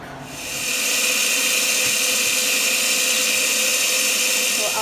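A blender whirs steadily at high speed, puréeing chile relleno sauce in a kitchen, a loud continuous hissing roar that ramps up in the first second and holds without pause.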